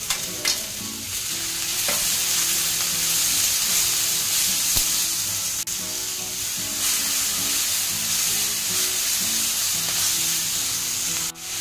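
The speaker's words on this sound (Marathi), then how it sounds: "छान परतून द्यायचं आपल्याला" Green, red and yellow bell peppers and green beans stir-fry over high heat for Schezwan fried rice, a loud continuous sizzle with rhythmic spatula scraping against the pan.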